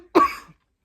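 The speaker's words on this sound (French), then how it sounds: "je tousse un peu" A single short, close cough, sharp and alone, that fades within half a second.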